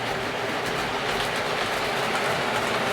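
A model Baby Deltic locomotive running on a Hornby, Bachmann, Heljan or Triang model railway, giving a steady close rolling rumble with faint rhythmic wheel clicks, no talking.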